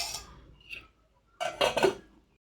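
A metal lid is set onto a pot of boiling greens with chili. A quick clatter comes first, then a pause, then a cluster of sharp metallic knocks as the lid settles, all close and fairly loud with no voices.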